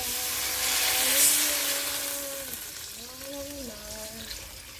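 Water pours steadily into a cooking pot for kinhason seashell soup, with a gurgling, rising tone as it fills, fairly close, with a brief splashy surge early on.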